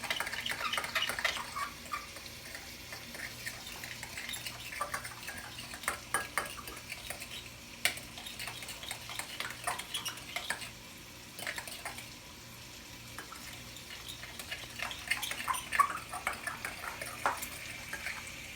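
Utensil stirring eggs in a metal pan, light clinking and scraping taps recurring irregularly and fairly close, with a faint background hum and no talking.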